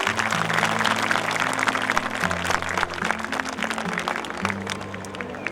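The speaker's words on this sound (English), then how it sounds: "give a huge round of applause to our chief guest" An audience at a school Founder's Day ceremony applauds the chief guest with steady, sustained clapping over a low held musical tone.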